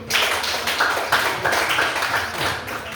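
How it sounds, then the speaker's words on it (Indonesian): A classroom of students claps for a group presentation, a close, loud burst of hands clapping in loose rhythmic pulses that holds for the full three seconds. "kita beri tepuk tangan dulu"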